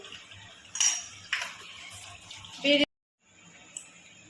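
A tawa griddle set on a stove with a pot placed on top of it, heard as a few close metallic clanks and scrapes, ending in a sudden cutoff followed by faint background hum.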